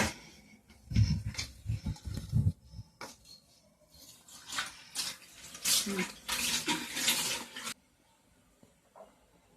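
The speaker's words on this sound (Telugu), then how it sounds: "ఈ లోపు అయితే మనం చికెన్ శుభ్రంగా కడుక్కుందామండి" Raw chicken being washed by hand in water, heard as bursts of splashing and wet rubbing, louder in the middle and then stopping, leaving near quiet at the end.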